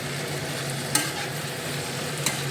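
Onion, ginger and garlic frying lightly in a pan, giving a soft, steady sizzle with a couple of brief utensil clicks, close and even, no speech.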